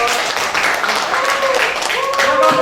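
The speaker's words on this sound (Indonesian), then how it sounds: "Kelompok imunitas, kita berikan aplaus." A classroom of students gives the immunity group a round of applause, a loud, dense patter of many hands clapping while voices carry over it.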